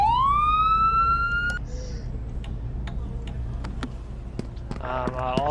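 A modded emergency vehicle siren in the video game Flashing Lights rises in a sweeping wail and cuts off, followed by scattered clicks and a brief burst of rapid electronic yelping tones near the end.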